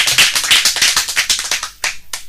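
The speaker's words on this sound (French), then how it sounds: "Acclamez fort le pasteur." A church congregation applauds the pastor, a loud, fast burst of clapping that thins into a few scattered claps at the end.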